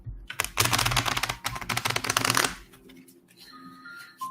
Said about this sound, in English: shuffling the cards, shuffling the cards